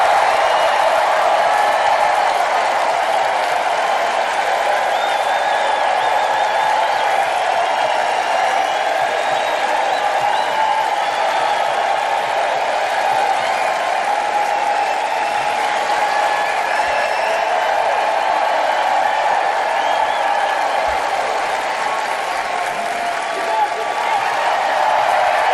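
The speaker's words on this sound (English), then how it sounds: "This is a round of applause" A long, steady round of applause with crowd noise greets young boxing fighters at a ringside event, holding loud and even throughout with faint voices mixed in.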